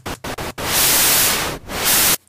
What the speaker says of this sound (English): So that's white noise